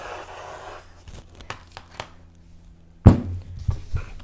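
Quilting fabric being cut at 18 inches along a ruler: faint taps and rustles, then one loud, sharp cutting stroke followed by a brief scraping tail.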